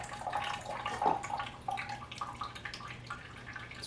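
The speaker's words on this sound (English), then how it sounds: "Just open the valve, and there's my almond milk." Homemade almond milk pouring from the opened valve of a Hurom HZ slow juicer, a soft close trickle with small drips and splashes over a faint steady hum.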